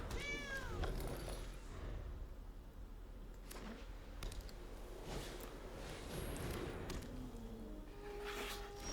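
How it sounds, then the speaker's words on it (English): A short synthetic meow plays as a cat card is cast in the digital card game MTG Arena, followed by quiet game interface clicks and soft thuds over a low ambient bed. "Let's play out our own cat."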